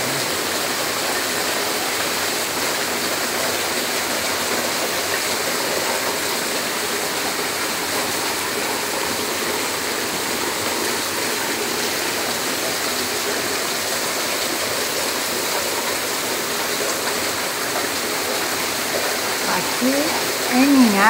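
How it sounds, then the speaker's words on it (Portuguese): Heavy rain pours steadily in Linhares, Espírito Santo, a dense, continuous wash of falling water close by, holding at a constant level throughout with no voices over it. "Em Linhares, Espírito Santo, está chovendo."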